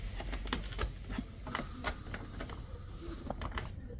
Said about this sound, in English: And we want to pry the U clip with this clip remover.